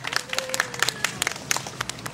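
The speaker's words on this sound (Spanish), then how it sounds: "Fuerte los aplausos, por favor, para la profesora Lucinda Cuba Vilca" Scattered hand claps from an audience at an evening school gala honoring a teacher, sparse and uneven rather than a full ovation, with a faint tone running beneath.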